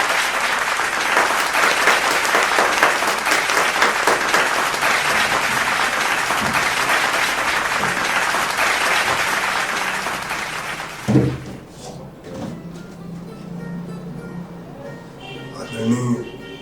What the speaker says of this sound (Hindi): आपके जोरदार तालियों के बीच में अब मैं उनको डांस करने की आवाज देता हूं